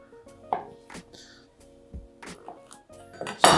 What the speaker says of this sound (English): I just wanna slice these